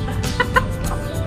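A chicken clucks close by in a short run of quick, throaty clucks, two of them sharper and louder than the rest, over steady low background noise.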